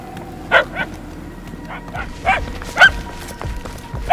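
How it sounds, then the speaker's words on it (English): Cosmo's puppies bark in a Guardians of the Galaxy video game: a handful of short, sharp yips and barks spaced irregularly over a low background hum, moderately loud and fairly close. "The barks are getting louder"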